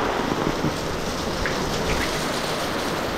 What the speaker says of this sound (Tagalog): Lakas po ng ulan, no?